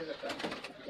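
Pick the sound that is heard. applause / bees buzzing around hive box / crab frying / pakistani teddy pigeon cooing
pakistani teddy pigeon cooing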